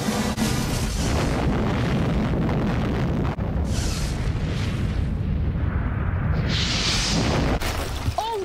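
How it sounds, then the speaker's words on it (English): A heavy, sustained booming roar of cannon fire at a ship in the video game Sea of Thieves, with crackling debris and rumbling impacts, plus a brief voice near the end. "I just got fired at by a cannonball"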